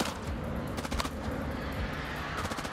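Steady automatic gunfire in the horror game House of Ashes, a continuous rattle of machine-gun shots at moderate distance with scattered sharper cracks, no voices.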